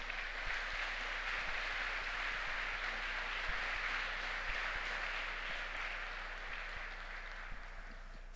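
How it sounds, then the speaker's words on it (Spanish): Congregation in a church giving steady applause, a soft, even wash of clapping heard at a distance without a break. "Dele un fuerte aplauso al Señor."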